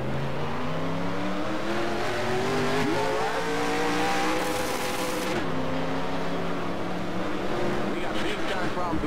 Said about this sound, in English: We got big time problems with that motor